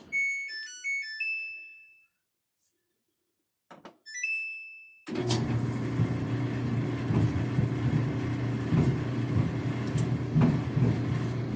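A Samsung dryer with a newly replaced belt tensioner starts with a chiming melody of electronic beeps, then settles into a steady loud rumbling hum as the drum spins smoothly without squeaking.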